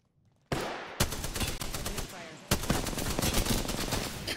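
Rapid video game gunfire rattles in bursts, opening sharply after a brief quiet, pausing, then resuming in a dense stream of close, loud shots.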